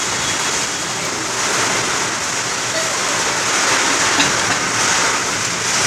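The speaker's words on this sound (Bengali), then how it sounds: "বৃষ্টিও নেমে গেছে জোর।" Heavy rain pours down outside during a violent storm with lightning, a dense, steady roar of noise that never lets up.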